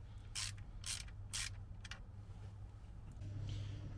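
A ratchet tightens transmission pan bolts on a Jaguar XJ40 ZF 4HP24 gearbox in several quick bursts of clicking, close and fairly loud, then fades to a faint rasp.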